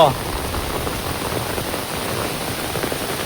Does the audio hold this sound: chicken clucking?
no